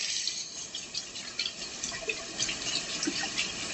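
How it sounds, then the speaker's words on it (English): Faint tap water runs steadily while a Tupperware dish is rinsed, giving a soft, continuous hiss with light splashes and drips in a kitchen and no voices. "Let's wash this off."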